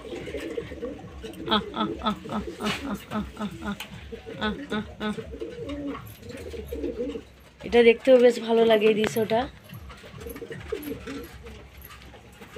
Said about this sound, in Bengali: ধাড়ি পায়রাগুলো কেমন করছে খাওয়ার জন্য, ঘর থেকে কেমন করছে